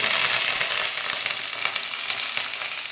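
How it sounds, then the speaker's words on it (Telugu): Cumin seeds and curry leaves dropped into hot oil for gobi rice, a loud, dense crackling sizzle close up, spitting steadily for the whole stretch with no voices. "కొద్దిగా జీలకర్ర వేస్తున్నాను. జీలకర్ర,"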